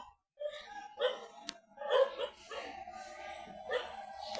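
A dog yaps and barks in a steady run of sharp, high barks, close and moderately loud, with a brief click partway through.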